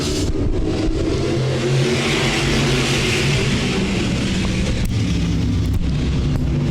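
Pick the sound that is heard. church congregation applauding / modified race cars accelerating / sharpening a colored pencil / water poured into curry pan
modified race cars accelerating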